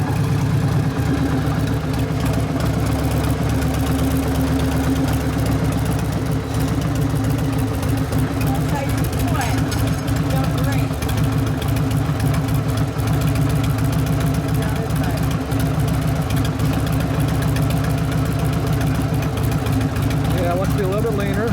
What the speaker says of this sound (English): Yeah, idle speed's up a little higher.